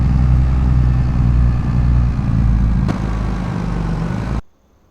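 A vintage tractor in Farming Simulator 25 idles with a steady, loud, low rumble for several seconds, then cuts off abruptly into near silence.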